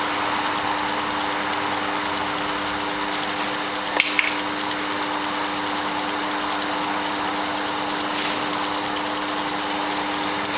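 A Sherline lathe turning while an Xacto blade cuts silicone PVC tubing: a steady motor whine and drone with a faint brief scrape from the blade, continuous and close with no talking.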